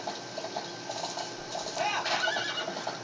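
Epona, the horse in the video game Zelda Twilight Princess, gives a brief whinny over soft hoof clip-clops and quiet game ambience, fairly faint, with a voice talking alongside.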